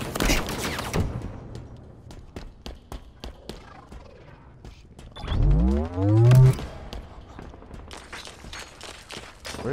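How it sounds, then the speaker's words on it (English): Gunfire in Halo Infinite during a Capture the Flag match on Behemoth, a string of quick, fairly faint shots with a louder rising vehicle or weapon whine in the middle. "Where is this guy shooting at me?"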